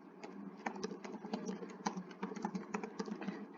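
Typing on a computer keyboard, a steady run of quick, close key clicks with uneven rhythm.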